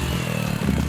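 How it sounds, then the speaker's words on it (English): A dirt bike engine revs hard and steadily right up close, a loud rasping drone that holds for under a second with no talk over it. "you're gonna blow the engine"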